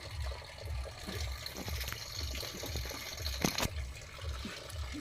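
Water runs steadily from a tap, a fairly soft, continuous flow with a faint rhythmic pulsing underneath and no voices.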